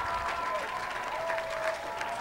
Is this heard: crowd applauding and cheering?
yes